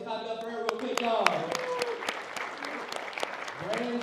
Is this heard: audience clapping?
yes